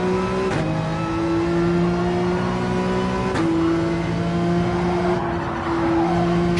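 A race car in Gran Turismo 7 held at full throttle, its engine a steady loud drone with brief dips at gear shifts, continuous throughout with no talk.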